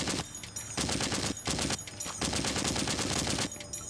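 A mounted .50 caliber machine gun hammers out long, sustained bursts in the zombie shooter Into The Dead 2, loud and close, with only brief pauses between strings of rapid shots.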